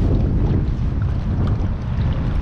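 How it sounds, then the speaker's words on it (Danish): Strong gusty wind roars steadily across the microphone on open water while fishing from a small boat in heavy swells, a dense low rumble with no voices. "Så nu kommer vinden med udefra"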